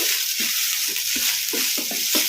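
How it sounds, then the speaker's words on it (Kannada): Soya chunks fry in a pan over high flame with a steady, bright sizzle, while the chunks are stirred and scraped in soft repeated strokes beneath the hiss. "ಈ ಥರ ಕಲಿಸ್ಕೊಂತ ಫ್ರೈ ಮಾಡ್ಕೋಬೇಕು ಒಂದೆರಡು ನಿಮಿಷ ಹೈ ಫ್ಲೇಮಲ್ಲಿ"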